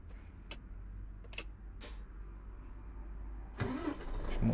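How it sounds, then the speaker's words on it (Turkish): Inside the cab of a Volvo truck in Euro Truck Simulator 2, a few soft clicks come first, then the engine cranks and catches, settling into a low rumbling idle. "Şu motorumuzu çalıştıralım."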